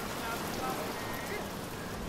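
Steady rain pours down in the video game BioShock Infinite, a dense, even hiss of drops hitting surfaces that stays loud and constant throughout with no pauses.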